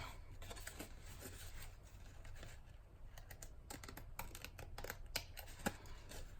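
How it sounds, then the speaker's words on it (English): Scissors snipping through excess paper or cardstock while trimming a handmade craft envelope, with quiet, close, crisp cuts repeating irregularly over a soft steady background hiss. "I'm gonna cut off the excess."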